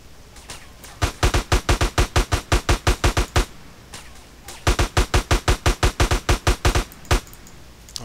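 Rapid, evenly spaced automatic gunfire in GTA San Andreas, loud and close, in two long bursts of about a dozen shots each with a brief pause between them and a few stray shots around.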